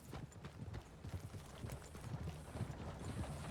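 A horse's hooves in Red Dead Online clip-clop in a steady, quick rhythm at moderate volume, close by, over a soft background wash.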